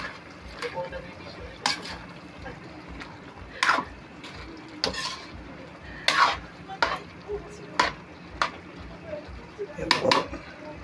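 Vegetables for ginisang gulay being stirred in a pan, a spatula scraping and clinking against the metal in irregular strokes over a faint sizzle, with quiet talk nearby.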